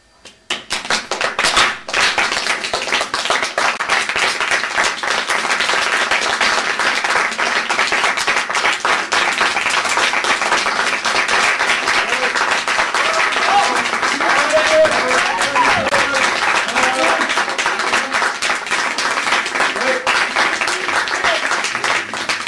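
A crowd of men and women applauds and acclaims the tribune Valerius, with loud, sustained clapping that fills the space steadily for over twenty seconds after a sharp start.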